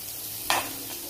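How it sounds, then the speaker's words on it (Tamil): A steady low frying hiss from a pan sautéing ingredients until browned for South Indian kichdi, broken by a single short scrape of stirring midway, close and fairly quiet. "இன்னும் ஒரு 1 மினிட் வதங்கினோம் அப்படின்னா நல்ல ப்ரௌன் கலரும் நமக்கு கிடச்சிடும்"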